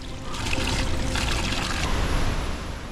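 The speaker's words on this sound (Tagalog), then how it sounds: "Isang sapa kung saan pwede kang maghilamos at kumuha ng tubig pangpawi ng uhaw at pagod." A small stream on a trail down to Mindamora Falls in Bukidnon, Philippines, trickles and splashes steadily nearby, a continuous bubbling wash of water with no voices.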